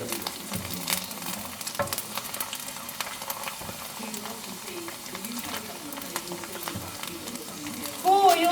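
Pork rinds (khaep mu) fry in hot oil, a constant crackling sizzle with sharp pops and stirring scrapes, while voices talk over it nearby.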